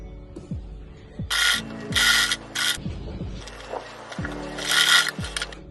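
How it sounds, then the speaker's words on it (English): A sewing machine runs top stitching along a pinned pocket on straight-leg sweatpants, giving three or four short mechanical bursts of needle clatter with brief pauses between them, close and moderately loud, with no talking. "do a little top stitch on this place that you pin down, and a little top stitch on this place too"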